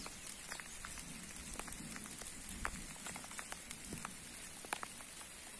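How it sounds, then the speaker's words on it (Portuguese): Steady rain pattering down on a surface outdoors by a coffee plantation in Minas Gerais, Brazil, with scattered louder drops tapping through a constant soft hiss. "A chuva tá caindo, gente"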